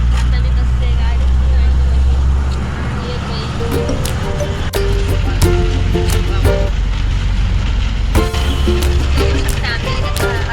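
A bus pulls out from a bus stand on the road toward Jalna, its engine a steady low rumble with road noise beneath it, while people talk over the drone.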